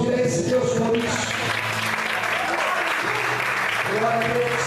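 A church congregation applauds steadily in a dense, loud wash of clapping during an evening service, with a voice speaking over it.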